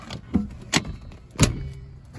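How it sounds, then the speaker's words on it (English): Rear seats fold up inside a 2019 Honda Ridgeline RTL-T, three short mechanical clunks and clicks at uneven intervals, close and moderately loud, with no talking. "The seats fold up on both sides."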